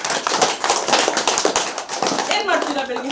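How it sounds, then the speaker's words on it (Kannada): A room of students clapping loudly: brisk, dense applause that carries steadily through the whole short stretch, with voices mixed in. "ಜೋರಾಗಿ ಚಪ್ಪಾಳೆ."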